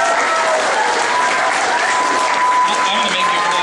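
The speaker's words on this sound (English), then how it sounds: "I'm going to make you applaud all the time." A crowd applauds steadily and fairly loudly throughout at the grand opening of the West Kelowna Kraft Hockeyville headquarters. The clapping is dense and sustained, with a faint tone running beneath it.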